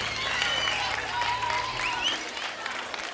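Concert crowd applauding in an outdoor town plaza in Aibar, a steady wash of clapping that holds throughout, with a sustained musical tone and a few voices rising over it.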